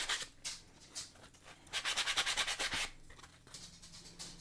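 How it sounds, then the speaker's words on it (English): A sander rubs over a tiny replica wooden skateboard in bursts of scratchy abrasion, with one long rhythmic pulsing pass in the middle, close and fairly loud. "Now I'm going to use this sander to give it a little bit of a smooth sand."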